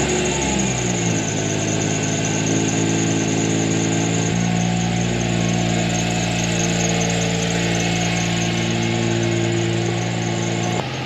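A Subaru Tribeca or Outback fitted with a swapped JDM EZ30 flat-six cranks on a booster pack, catches and settles into a steady close idle, engine tone dropping after the first few seconds with a faint high squeal above.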